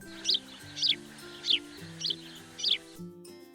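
Five bright, twittering swallow chirps at steady intervals over a faint low hum in the background.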